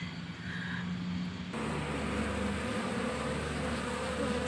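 Honeybees swarm and buzz densely and continuously, close up, as they are scooped by hand into a wooden beekeeping box, a steady hum with no talk.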